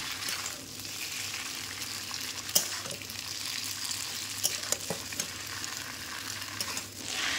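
Chow mein Maggi noodles being fried and stirred in a pan, a steady soft sizzle with scattered scraping clicks from the spatula, fairly close and alone without voices.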